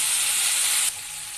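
Onions fry in a pan until brown, giving a loud, close hiss of sizzling oil that abruptly drops to a softer sizzle partway through.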